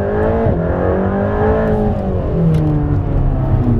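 Close, loud exhaust from a Mercedes-AMG GT Black Series revs with sweeping harmonic tones that rise and dip, then settle into a rough, sustained roar.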